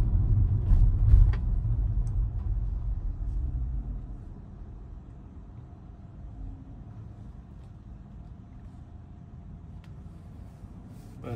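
A Tesla driving itself on Full Self-Driving v13.2.7 gives a steady low interior road rumble, louder for the first few seconds and then easing to a quieter, even drone.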